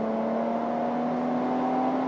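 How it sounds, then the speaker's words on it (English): A Nissan Armada NISMO twin-turbo V6 revs up close, its exhaust sound augmented through the sound system, giving a loud, steady, high-pitched engine tone with a humming drone underneath. "this twin-turbo V6 has a little bit more of that high-pitch sort of tone to it"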